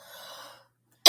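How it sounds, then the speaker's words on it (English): A faint hiss fades to silence, then a single sharp, loud cough bursts in close to the end. "I'll get my coughing out of the way"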